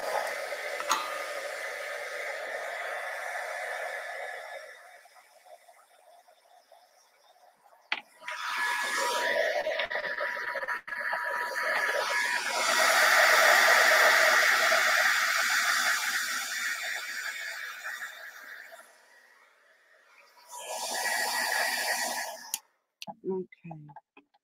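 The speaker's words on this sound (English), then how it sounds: "And grab my heat gun." A heat gun blows hot air over white embossing powder, a steady broadband whoosh that starts, runs for several seconds, stops briefly and then runs again before cutting off, with a few clicks around it.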